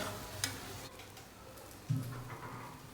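Marinated chicken for Malaysian curry chicken being stirred in a pan: soft, quiet scraping and a faint sizzle, broken by two brief knocks of the utensil against the pan.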